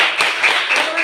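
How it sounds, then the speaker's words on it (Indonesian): A classroom of students claps for their class leader in quick, rhythmic bursts of hand claps, with voices mixed in among the applause. "Tepuk tangan buat ketua dulu."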